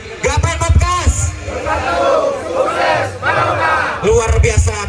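A crowd of men at an outdoor gathering on Manggar Beach in Balikpapan chants a unison group yell, loud and close, with rhythmic shouted syllables rising and falling over about five seconds.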